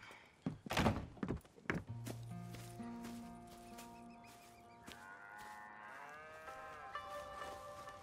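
In Red Dead Redemption 2, a few heavy thunks open, then a long, drawn-out cow moo rises and wavers, with a second lowing call following, fairly close.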